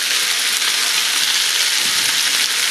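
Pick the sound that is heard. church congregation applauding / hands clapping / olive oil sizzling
olive oil sizzling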